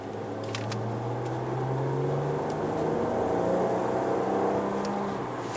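A Maserati Quattroporte with 404 horsepower is driven, its engine and exhaust giving a steady, moderately quiet hum heard from inside the cabin, with the pitch shifting slightly as the car moves.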